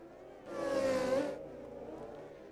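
A micro sprint race car on a dirt track swells in with a buzzing engine whine as it passes, peaks briefly, then fades back to a lower distant drone.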